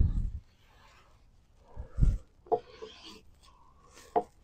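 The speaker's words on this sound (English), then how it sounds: "Use a brush. Brush this stuff down." A broom sweeping black locust wood dust down off a log being cut into staves, a few short scratchy brushing strokes, close and fairly quiet, with pauses between them.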